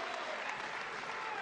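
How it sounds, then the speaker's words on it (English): A boxing crowd in Newton, Massachusetts roars steadily at the final bell of a third-round amateur bout, a dense, continuous wash of cheering and applause that stays loud throughout. "the crowd erupts here in Newton, Massachusetts"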